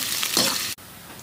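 Onions fry to golden brown in hot oil for chicken biryani, a close, bright sizzle that ends abruptly after under a second.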